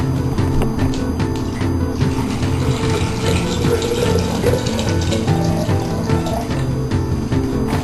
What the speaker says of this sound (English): Now I'm going to add some water to the prism